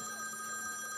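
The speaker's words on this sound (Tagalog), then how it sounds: "Nagre-ring. Alam mo yung telepono." A telephone ringing with a bright electronic bell tone, steady and fairly faint, with no talk over it.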